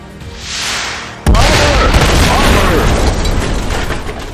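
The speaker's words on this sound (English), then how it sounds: "That was a power dampening missile." A power-dampening missile explodes in a comic-book action scene. A soft rising whoosh leads into a sudden loud blast, followed by a long rumbling, crackling decay.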